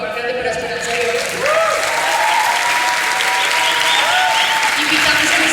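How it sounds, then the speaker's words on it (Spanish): A large crowd at the Manizales International Film Festival in Colombia applauds for Esperanza de Oro, the continuous, loud clapping filling the space while faint tonal sounds drift above it. "Un aplauso por favor grande para Esperanza de Oro"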